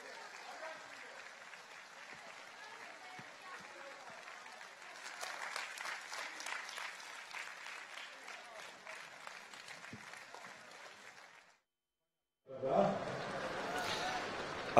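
A folk festival audience applauds a Georgian performance in a sustained dense clatter of clapping that swells midway, then cuts out briefly before a louder crowd noise resumes.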